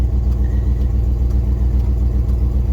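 Old Chrysler 318 5.2-litre V8 idling close by, a steady loud low rumble with an even pulsing beat and no voices.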